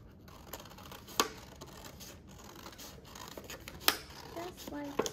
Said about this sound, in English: with your scissors, you're gonna just cut to the middle of your plate and just cut the circle out in the middle